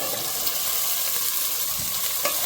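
Mixed vegetables fry with onions in oil for a veg biryani, a constant close sizzle broken by a few scraping stirs of a spoon against the pan, with no voices.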